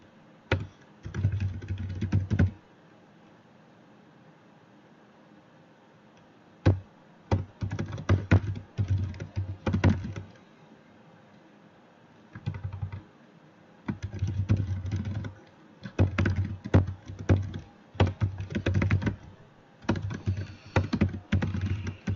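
Typing on a computer keyboard, loud close clacking in irregular bursts with pauses between runs of keystrokes.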